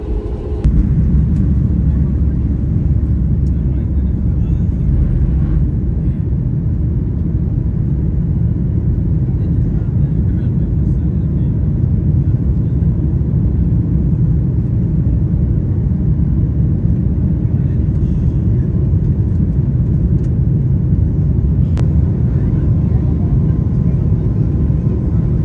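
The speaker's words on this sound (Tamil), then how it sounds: "இந்த ஃப்ளைட் வந்து வெளிக்கிட்டுது, ரன்வேயில் ஓடிக்கொண்டிருக்கு" An airliner speeds down the runway during its takeoff roll, filling the cabin with a loud, constant low rumble and roar that holds steady for the whole stretch.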